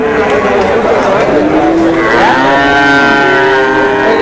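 Australian cross cattle low in long, loud, drawn-out moos at a crowded village cattle market in Manikganj, over steady crowd chatter and voices.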